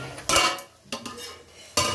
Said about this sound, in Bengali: আমি ঢাকনাটা তুলছি